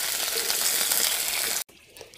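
Cut, washed potatoes frying in hot oil in a clay pot: a steady bright sizzle that cuts off abruptly near the end, followed by a brief quieter rustle.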